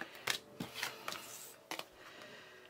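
Tarot cards shuffled and drawn from the deck, a series of crisp close riffling flutters and sharp card snaps in uneven bursts over quiet background, no speech.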